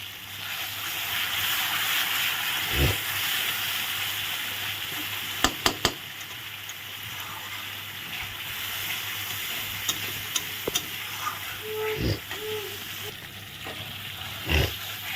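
Spices cooked down with salt and turmeric in a pan give a steady, broad sizzle throughout, with a few sharp scrapes and clicks of stirring and a low thump or two from utensils.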